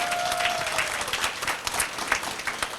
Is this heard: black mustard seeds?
no